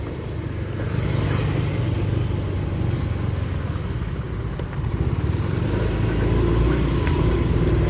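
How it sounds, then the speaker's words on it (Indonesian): Road traffic rumbles steadily in a heavy jam, with engines idling and vehicles creeping out one by one; a continuous low drone stays moderately loud throughout, with a faint voice or two in the distance. "Ini kendaraan mau keluar."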